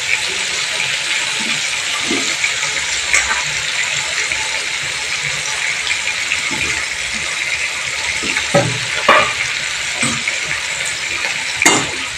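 Fried yam and potato sautéed in a spiced masala in a pan, with a steady hiss and sizzle and intermittent scraping stirs throughout.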